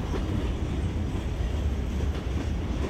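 A freight train rolls past a trackside bench, a loud continuous low rumble with faint rail clatter running unbroken throughout and no talk.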